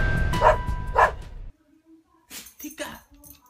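A dog gives two sharp barks close by, then falls quiet before soft whimpering yips and a person's voice follow.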